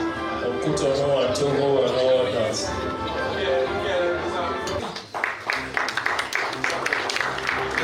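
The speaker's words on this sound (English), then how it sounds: "Cheers, applause as journalists who had put in the work in their different beats in the past year get recognized and rewarded for their hard work." Applause at a journalism awards ceremony, with scattered claps and crowd noise building in the second half, mixed with people talking nearby.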